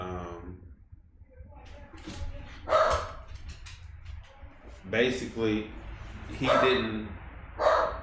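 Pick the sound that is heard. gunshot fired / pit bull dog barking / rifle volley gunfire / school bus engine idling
pit bull dog barking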